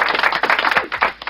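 Brief burst of clapping during a live motivational podcast, several quick claps in an uneven rhythm, fairly loud and close with no clear talk over it.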